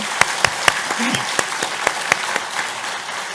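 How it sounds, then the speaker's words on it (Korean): A temple congregation applauds after a choir performance at a Won Buddhist service, with steady clapping and a few sharp, loud claps standing out. A voice speaks over the applause. "큰 박수를 함께 보냅니다"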